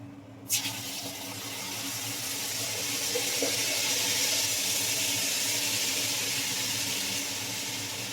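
Tamarind extract hits a hot pan while making pulihora premix, giving a steady, loud sizzle and hiss that starts with a sharp burst and keeps going, with no talk over it.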